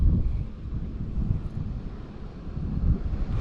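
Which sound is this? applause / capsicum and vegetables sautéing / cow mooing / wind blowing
wind blowing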